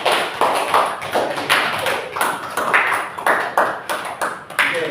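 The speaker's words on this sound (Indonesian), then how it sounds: "Oke, tepuk tangan dulu untuk potong." A classroom group claps hands together in a rhythmic, repeated pattern, a series of distinct sharp bursts at a steady pace, fairly close and loud.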